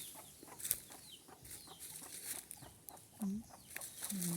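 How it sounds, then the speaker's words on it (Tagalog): A chicken clucks outdoors on a leafy path, with a few short, faint clucks scattered across the moment amid light rustling. "Chicken. Chicken."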